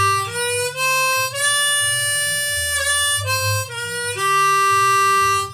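A harmonica plays a short single-note riff with a thin, plain tone, the notes clear and sustained alone with brief breaths between them.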